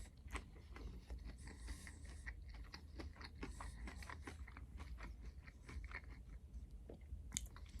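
Close, quiet chewing of crunchy breaded Boston Pizza Thai chicken bites, with a steady run of small crackling crunches and bites heard alone.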